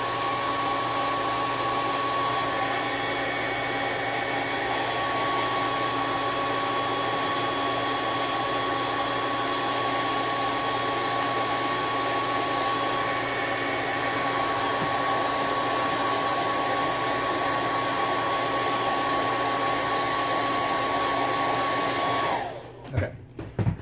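A hair dryer blasts steadily to dry wet super glue accelerator, a loud, continuous close-up whoosh with a faint tonal whine, cutting off abruptly near the end.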